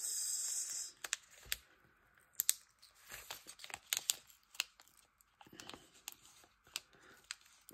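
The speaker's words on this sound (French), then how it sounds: "Il veut pas se décoller. Méchant stickers." A sticker is peeled off a notebook page during crafting: crackling, ripping tears arrive in short bursts, close and fairly quiet, with a hissy stretch at the start and no talk.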